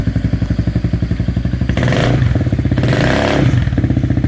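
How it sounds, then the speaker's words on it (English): Yamaha Morphous 400 scooter fitted with a Yoshimura RS3 muffler, idling with a steady pulsing beat, then revved hard twice in loud, close bursts before settling back. "Give it some gas."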